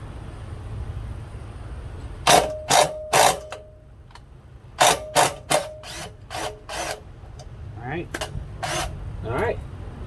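Torx T27 bolts come off a Craftsman chipper/shredder in a series of short, sharp mechanical bursts from a tool, grouped in quick clusters with brief pauses between them.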